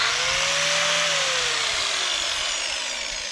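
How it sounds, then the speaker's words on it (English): A 4- or 6-inch angle grinder fitted with a soft sanding wheel works on a house build, a loud steady high whine that slowly drops in pitch as the motor winds down, alone without talk. "It's a grinder with a soft wheel on it."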